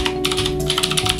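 Fast, clicky keystrokes on a Drop ALT 65% mechanical keyboard form a quick run of sharp taps over a steady background hum, close and fairly loud, with no voice.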